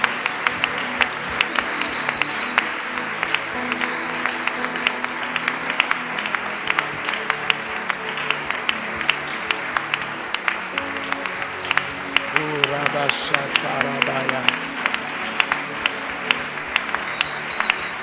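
A church congregation applauds and cheers to acclaim Jesus, sustaining dense, steady clapping for the whole stretch, with scattered voices mixed into the crowd noise.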